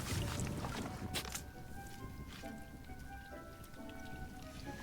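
Rain patters steadily in Hogwarts Legacy, soft and low with scattered drops, and the game's ambient sounds sit quietly beneath it.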